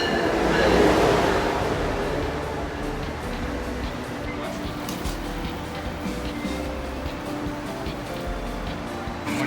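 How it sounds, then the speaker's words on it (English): Amtrak Acela Express train pulling into a station, a steady broadband rumble of rolling stock and platform ambience that swells early then holds, with faint background voices. "our Acela Express train finally arrived"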